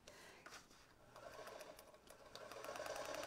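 A sewing machine backstitching fabric runs steadily up close, its fast mechanical whir and needle clatter building slightly in loudness with no talking.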